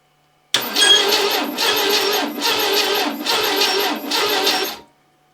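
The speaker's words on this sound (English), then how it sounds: "So it is time. Let's do a compression test." A Citroen CX GTi engine cranking over on the starter during a compression test with a suspected head gasket problem, five even rhythmic cranking pulses, close and loud, then stopping abruptly.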